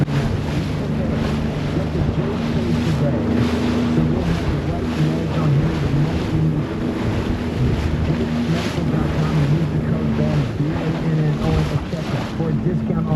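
Wind buffeting the microphone over rough seas with churning waves around a small boat, a loud, constant roar with rhythmic surges and some low engine-like hum underneath.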